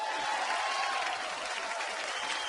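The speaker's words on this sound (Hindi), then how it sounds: "एक बार अनिल कपूर साहब के लिए जोरदार तालियां।" An award show audience gives sustained applause for Anil Kapoor, a dense, even wash of many hands clapping at once that carries at a moderate distance with no talk over it.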